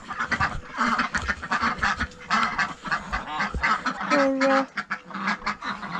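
A noisy flock of domestic ducks quacks and honks continuously, loud and close, with a brief spoken word among the clamor, at a home garden duck pen.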